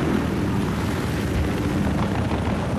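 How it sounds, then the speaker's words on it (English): Transport helicopter in the video game Battlefield Hardline, heard as a steady, loud broadband rotor and engine roar that fills the whole stretch without a break. "Transport chopper was above Charlie."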